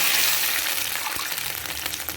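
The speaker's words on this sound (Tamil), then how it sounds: "நம்ம வந்து 4 டம்ளர் தண்ணி ஊற்றுவோம்" Water gushes steadily into a pan for samba wheat rava upma, a close, continuous pouring splash that eases slightly toward the end.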